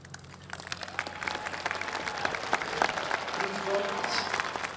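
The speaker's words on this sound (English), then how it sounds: "giving a huge thank you and a round of applause to these amazing men and women" Applause from a graduation ceremony audience honouring high school teachers and support staff, steady crowd clapping that swells and holds, with a voice speaking over it.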